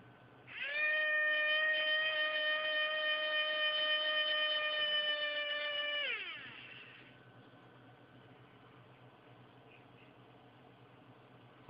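A reassembled electric motor from an R.C. car whirs up to a steady high-pitched whine for several seconds, then spins down and stops, leaving faint background noise.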